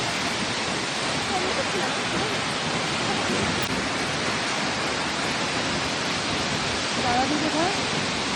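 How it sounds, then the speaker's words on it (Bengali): Changi waterfall pours with a loud, constant broadband rush of falling water that fills the whole scene, while a voice talks faintly beneath it. "ছাঙ্গি ওয়াটারফল।"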